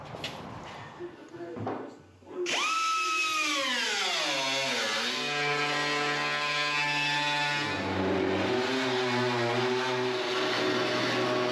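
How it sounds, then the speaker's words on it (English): An air compressor refilling during a 1936 Ford roof chop starts after some quiet shuffling, its motor whine dropping in pitch as it comes up to load, then settling into a loud, steady, close droning hum. "Waiting for my air compressor to fill back up."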